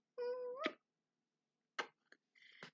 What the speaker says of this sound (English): He's a happy kitty.